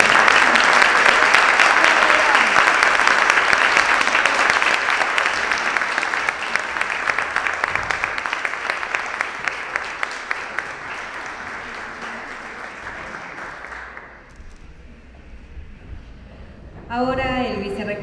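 Strong, sustained audience applause fills a university honorary doctorate ceremony at the Universidad Nacional de Rosario, loud and dense for about fourteen seconds before dropping away, with a voice speaking briefly at the end.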